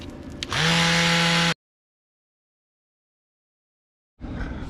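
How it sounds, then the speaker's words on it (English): A power sander with 120-grit paper runs on Bondo filler for about a second, giving a close, loud whirring buzz before cutting to silence, then faint background noise returns. "the 120 grit sanding is done"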